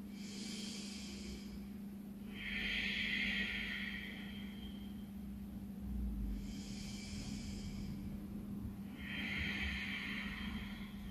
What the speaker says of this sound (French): Commencez à mettre en place votre respiration Ujjayi